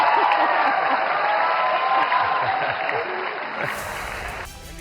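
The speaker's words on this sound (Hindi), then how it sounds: "पीएम मोदी के ऐसा कहते ही भारत मंडपम का पूरा हॉल तालियों से गूंज उठा" Audience applause fills the Bharat Mandapam hall, a dense, steady wash of clapping with some crowd noise that holds strong for several seconds before tapering off near the end.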